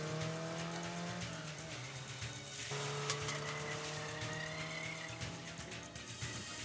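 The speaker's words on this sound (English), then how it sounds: "This guy's driving like a maniac" A car in a video game cutscene is driven recklessly, with a steady engine roar and squealing, skidding tires over it, loud and continuous with a shifting pitch as it swerves.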